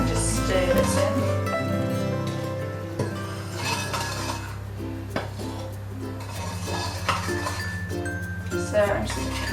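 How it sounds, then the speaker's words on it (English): Easter treat mixture stirred in a bowl, with light scraping and clinking of a utensil against the bowl, under steady background music. "So I'm just kind of stirring it in nice and lightly."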